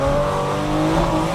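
A tuned Toyota Supra prepared to 500 horsepower accelerates hard with its tyres spinning, a loud, steady, close engine roar with a rising tone and a hint of tyre squeal, heard alone without voices.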